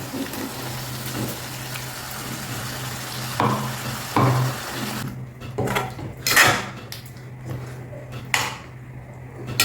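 Ground tomato and onion gravy goes into a hot pan for a drumstick masala curry, giving a soft sizzle and stirring scrapes, then a brighter burst of frying with spoon knocks against the pan.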